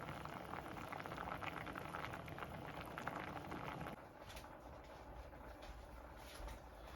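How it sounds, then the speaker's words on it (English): A pot of water at a rolling boil for Jamaican rice and peas, giving a steady, dense bubbling hiss that eases slightly partway through and then carries on evenly, with no talking. "so pot has been boiling for a little bit"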